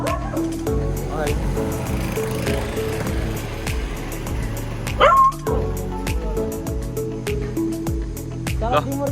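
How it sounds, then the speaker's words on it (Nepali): A dog barks and yips repeatedly up close in short bursts, with a whimper in between, while people talk over it almost throughout and a car passes faintly. "भयो कुकुर छ अगाडि"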